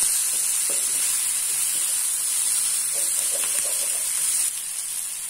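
Tomatoes and onion roasting in a pan for ragda chaat give off a steady, moderate hiss of sizzling, with a few faint soft clicks of stirring. The sound stays even and unbroken, with no one talking.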